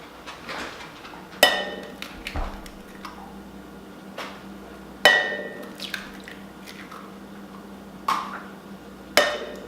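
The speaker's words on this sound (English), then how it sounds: "So we're going to start with 4 eggs. I'm just going to crack them right into this bowl." Four eggs cracked one after another into a bowl, with sharp taps and soft shell breaks spaced a few seconds apart at close range in a quiet kitchen.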